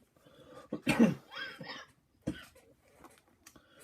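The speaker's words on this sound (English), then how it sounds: "Don't mind me coughing" A few close coughs and throat-clearing sounds, quiet and raspy, with short breathy pauses between them.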